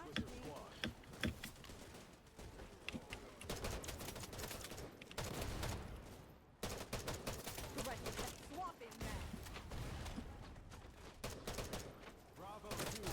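Dense automatic gunfire and explosions from the online shooter Wild Assault rattle almost continuously, with bursts of rapid shots stacked over a loud game mix and a short lull midway; a voice speaks over the action.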